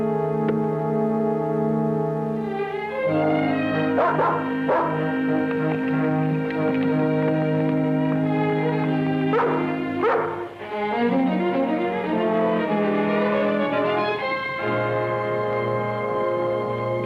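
Dog, with yips, barks and whimpers, heard over a sustained dramatic orchestral music bed, close and fairly loud, several short bursts scattered through.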